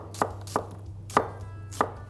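Two large white onions being sliced with a knife on a board: four sharp, distinct chopping strikes spaced irregularly, close and clear over a low steady background hum, with no talking.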